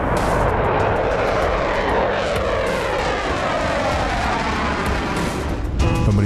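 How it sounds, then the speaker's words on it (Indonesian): Dassault Rafale multirole fighter jet engine, a loud continuous roar and rushing hiss that holds steady for several seconds, with no talk over it. "ada jet tempur multiguna asal Prancis, lebih tepatnya dibuat oleh perusahaan Dassault Aviation"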